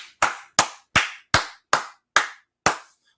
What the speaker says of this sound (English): All right, with that, clap it up.